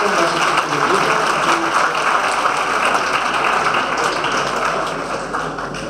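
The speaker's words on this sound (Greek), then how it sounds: "θα χειροκροτήσουμε όλοι μαζί όλους εσάς" An audience at a municipal staff gathering applauds together, dense sustained clapping from many hands that fades slightly toward the end, with some voices mixed in.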